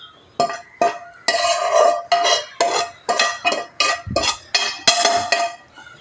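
Metal utensils clink and scrape against a pot in a series of sharp, close knocks, about a dozen irregular hits in a row, as cooked ash gourd is poured and moved into the vessel.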